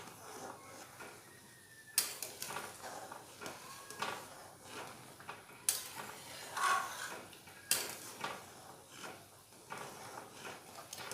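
Moong dal in a pot being stirred with Kashmiri chilli powder, giving soft scrapes and occasional clinks of a utensil against the pot, quiet and close with a faint sizzle underneath.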